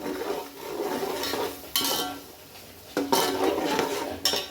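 Kichdi stirred in a metal pot, with a spoon scraping and knocking against the sides in uneven bursts, some sharp clanks standing out over soft mushy stirring, close by and with no talk.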